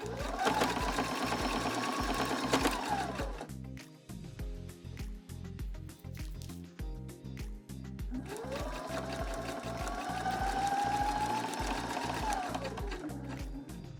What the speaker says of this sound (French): J'ai donc fait ma première couture en enlevant mes épingles au fur et à mesure.